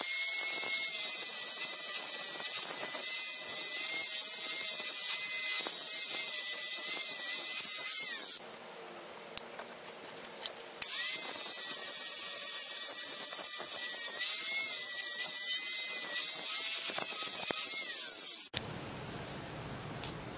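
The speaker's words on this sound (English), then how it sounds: "I've chucked a flap wheel into this angle grinder, and I'm just gonna clean up the edge around where I'm gonna weld" An angle grinder fitted with a flap wheel grinds along a chrome-plated metal edge, a loud steady high-pitched whine in two long passes separated by a short pause, stopping abruptly near the end.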